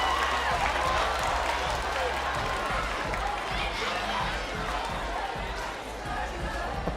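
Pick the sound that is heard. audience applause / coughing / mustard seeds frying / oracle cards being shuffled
audience applause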